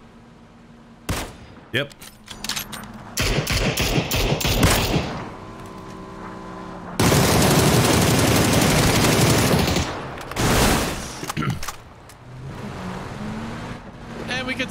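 Gunfire in the battle royale game PUBG: several loud, close bursts of automatic fire with pauses between, over engine and wind noise, with a voice briefly speaking.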